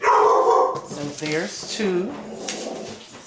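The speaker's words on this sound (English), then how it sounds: "Sorry about my dogs barking." Dogs bark near and loud in a home, several sharp barks and yips mixed with a person speaking over them.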